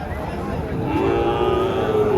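At a Joypurhat cattle market selling high-grade bull calves, a calf lets out a drawn-out, nasal moo over a low bed of crowd murmur and market bustle.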